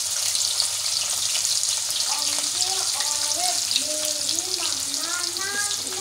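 Chopped onions frying in a pan as the base for Mumbai-style pav bhaji, a continuous bright sizzle with a low hum and faint chirping tones in the background.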